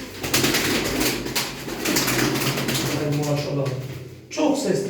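Pigeons cooing in soft, low, repeated calls close by, partly under someone talking.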